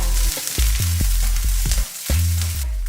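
Diced onions fry in a pan with a loud, steady sizzle, broken by the repeated scrape and stir of a utensil, and no one talks.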